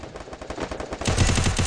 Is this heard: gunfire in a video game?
yes